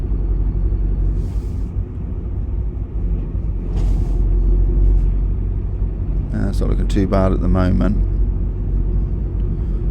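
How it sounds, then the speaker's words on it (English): Cars pass along a storm-battered coastal road in Guernsey, giving a steady low rumble with a brief hiss of passing traffic. Someone talks over the noise near the end. "There's cars slowing down, so we'll have a look."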